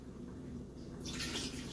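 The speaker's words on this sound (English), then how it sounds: "I'm going to add some water." Water pours into a simmering Nigerian buka beef stew pot, a brief splashing wash that rises near the end, close by and moderately loud over a low cooking hum.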